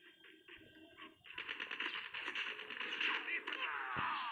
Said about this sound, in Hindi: अरे इतना गोली चला है मरा ही नहीं